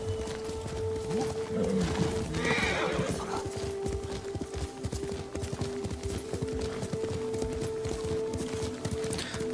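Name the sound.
horse neighing and hooves in Ghost of Tsushima video game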